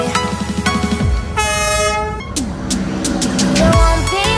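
A train approaches in Hanoi, Vietnam, with blaring horn blasts and rumbling, mechanical rattling and tones shifting as it draws near, loud and close.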